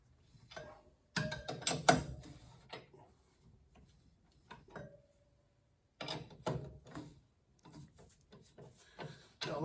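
A four-way lug wrench tightens the wheel lug nuts on a raised 1929 Ford Model A mail truck, giving close metallic ratcheting clanks and scrapes in bursts separated by short quiet gaps.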